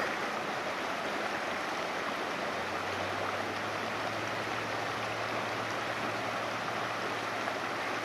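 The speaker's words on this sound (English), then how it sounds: "It's really a lovely, lovely creek or river." A lovely creek or river at a roadside pull-off on a cross-country trip, flowing with a steady, broad rushing wash that holds at the same level throughout, close and continuous with no talk.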